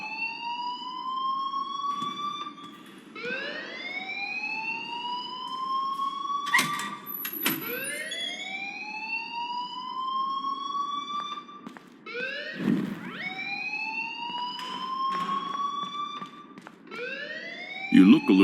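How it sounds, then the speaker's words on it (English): A rising, repeating electronic alarm wails loudly in the Life is Strange video game, each sweep climbing in pitch before restarting, about seven cycles in steady succession with a brief low thump partway through. "please turn off that alarm since that's your job"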